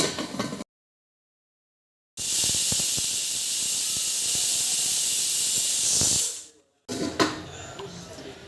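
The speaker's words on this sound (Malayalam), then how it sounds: "ഈ കുക്കറടച്ച് പുഴുങ്ങുന്നു." A pressure cooker steaming appam batter releases a loud, steady hiss of escaping steam for about four seconds before cutting off abruptly, with short stretches of other sound before and after.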